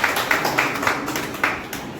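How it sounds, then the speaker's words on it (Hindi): Crowd applause greeting newly elected BJP district officials at a local party gathering in Khudala Falna, a steady patter of clapping with a few louder bursts. "जोरदार तालियों से स्वागत करें"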